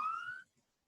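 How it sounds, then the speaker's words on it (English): A classroom timer sounds a single faint, steady electronic beep that lasts under half a second, then cuts off into silence. "That's the timer."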